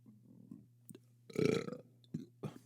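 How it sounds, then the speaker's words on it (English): A man gives a single drawn-out burp after drinking coffee, quiet and close in an otherwise hushed room. "Excuse my burp. I do this whenever I drink coffee."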